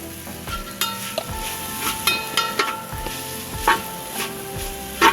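Crab roast masala sautés in a pan while cooking outdoors in a forest, with a bright continuous sizzle broken by frequent metallic scrapes and clinks of a stirring spoon against the pan, close and fairly loud, with no talking.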